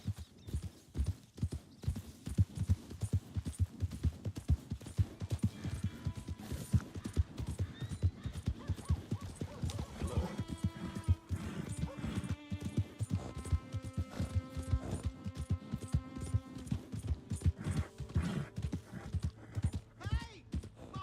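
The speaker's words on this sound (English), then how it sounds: "Hey! My horse!" Horse hooves clip-clop steadily in Red Dead Redemption 2, a repeated rhythmic trot running through the scene under game music, with a horse's whinny and a voice talking over it.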